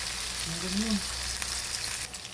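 Sliced onion sizzles and fries in a pan for pork binagoongan, a steady close crackle with a brief faint voice-like hum beneath.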